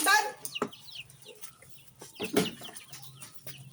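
Chickens and Mangyan chicks cluck and chirp nearby in short scattered calls, with some soft rustling in between.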